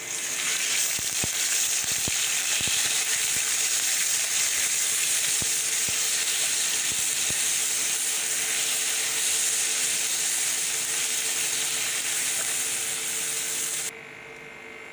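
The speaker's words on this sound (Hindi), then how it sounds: "अब मैं तड़का बना रही हूँ लहसुन अदरक का" Loud, continuous sizzling and crackling of garlic and ginger frying in hot oil for a dal tempering, steady throughout with a few scraping stirs, then settling slightly quieter at the end.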